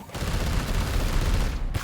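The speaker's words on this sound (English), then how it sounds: "I think we will detonate them with the psychic cannon" A psychic cannon detonation in Warhammer 40,000: Chaos Gate – Daemonhunters, a single dense, roaring blast that stays loud for nearly two seconds before cutting off.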